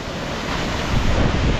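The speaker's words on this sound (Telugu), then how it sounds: "ఇదేమా" Vasudhara Falls, a waterfall reached on a trek, gives a steady, broadband roar of rushing water with wind buffeting the microphone, continuous and fairly loud throughout the short stretch.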